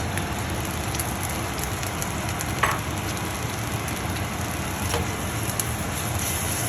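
Butter and spring vegetables sizzle in a pan for gnocchi, a steady dense crackling fry with occasional small pops, close and continuous throughout with no talking.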